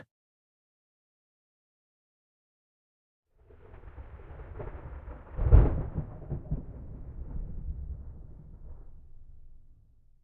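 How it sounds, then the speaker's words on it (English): After a few seconds of silence, a deep roll of thunder in the game Love and Deepspace builds, peaks in a sharp crack, then rumbles on and slowly fades. "That sounded like thunder."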